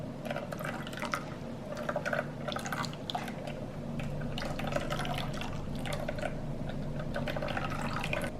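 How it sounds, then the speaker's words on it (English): Liquid for Mexican rice is strained to remove clumps: a steady, close trickle and patter of liquid pouring through a strainer, with small drips and splashes throughout at a moderate level. "We're gonna actually strain it. I don't want any clumps"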